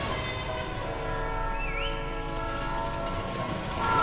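Train approaching in a tunnel in a Roblox game, a continuous rumbling rail drone with a sustained horn tone and a brief rising whistle in the middle, growing louder at the end.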